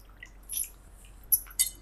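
Washed soya chunks are squeezed by hand to press out water, giving a few short, quiet wet squishes and drips spaced over a couple of seconds against near silence.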